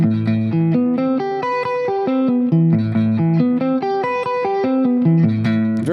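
Distorted electric guitar plays fast six-string sweep arpeggios, major then minor, in smooth rising and falling cascades of sustained, overdriven notes with a touch of reverb, loud and continuous with no talking.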